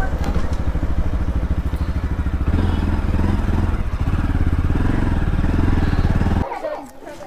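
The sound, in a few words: motorbike riding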